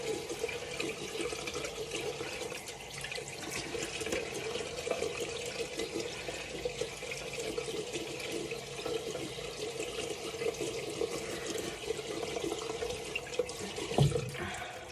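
Tap water running steadily into a sink during a face-washing routine, hands scooping it up, a continuous close splashing flow with a brief louder slosh near the end.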